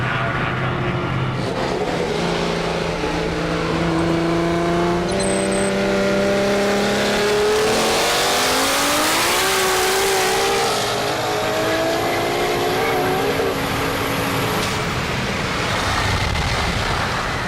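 A turbocharged car makes a speed run at a street-racing event, its engine note climbing steadily as it accelerates hard under boost, loud and sustained with strong wind and road roar throughout.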